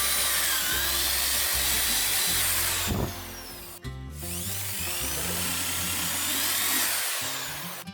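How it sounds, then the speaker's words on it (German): A power drill whines loudly and steadily as it bores holes into a tire, pausing briefly once before spinning up again, close by and without any talking. "dann passende Löcher in den Reifen gebohrt"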